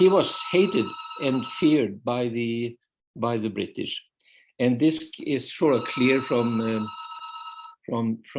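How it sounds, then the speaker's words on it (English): A telephone bell rings in two long, steady bursts during a lecture, loud and clear, overlapping a person who keeps speaking. "I'm sorry about that phone."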